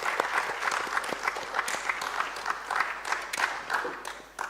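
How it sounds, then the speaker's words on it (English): Audience applause at a governance summit, steady dense clapping from a crowd sustained for several seconds at moderate distance, with no speech over it. "please give me a huge round of applause"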